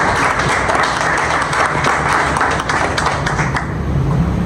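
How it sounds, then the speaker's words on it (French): Sustained audience applause at a clinic staff gathering honoring a surgeon, loud and dense steady clapping with no voices over it. "Vous en applaudissez souvent."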